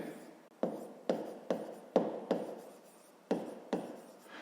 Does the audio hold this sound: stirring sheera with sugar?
no